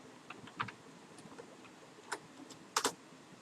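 Python code being typed on a computer keyboard, a few sparse, quiet keystrokes spaced out, then a small cluster of sharper clicks near the end, with no one talking.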